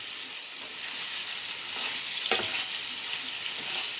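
Mushrooms frying in a cast iron skillet at home, giving a close, steady sizzle with a brief louder crackle and stir burst midway, no voices.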